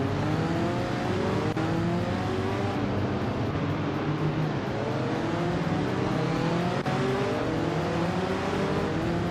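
A 1967 Russell Alexis Formula Ford race car engine drones steadily and loudly through a continuous run, its pitch gliding up and down as it works through gears during a race.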